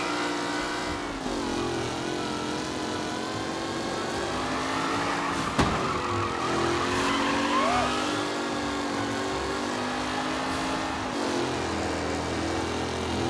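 Race cars on the final lap in Mafia Definitive Edition roar past continuously, engines revving and droning close and loud, with a sharp mechanical bang near the middle.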